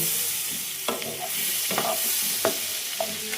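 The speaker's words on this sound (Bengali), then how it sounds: "তারপরে আমি কিন্তু পনিরগুলো দিয়ে একটু হালকা করে ভেজে নেব।" Paneer pieces fry in butter in a pan, a steady bright sizzle running throughout, broken by a few soft knocks of a stirring spoon, close and with no speech.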